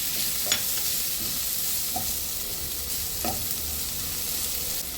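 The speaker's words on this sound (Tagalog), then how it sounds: "Yan, lulutuin muna natin yung bawang. Yan, malapit ng pumula, lagay natin sa gilid yung sibuyas." Garlic browning in hot oil with onion added alongside, sautéing in a pan as the base for squid adobo; a steady, close sizzle runs throughout, with a few light stirring clinks.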